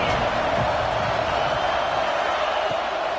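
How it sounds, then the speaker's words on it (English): Crowd noise fills a stadium in a college football video game, Nebraska versus Boston College, a steady loud roar that stays even throughout. "This crowd trying to make life miserable for this offense."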